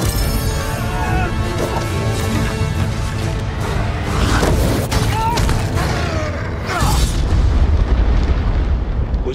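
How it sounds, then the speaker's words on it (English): A deep dragon rumble in a fantasy film trailer, a sustained low booming roar with crashing swells beneath a dense, dramatic score. "Was that an earthquake? That, my lad, was a dragon."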